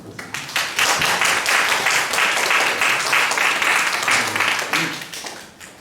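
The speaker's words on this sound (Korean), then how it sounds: "우리 서로에게 좀 격려하는 마음으로 박수 쳐볼까요?" A church youth congregation at a high-school Sunday worship service applauds. Dense, steady clapping fills nearly six seconds, then tapers off at the end, with faint voices underneath.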